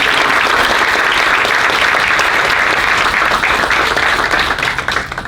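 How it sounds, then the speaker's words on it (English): Loud, sustained audience applause at the inauguration of the LUMS Syed Ahsan Ali and Syed Maratib Ali School of Education, a dense wash of clapping from a large crowd that thins slightly at the very end. "the roundest and loudest applause should also go to the team behind these two visionary leaders"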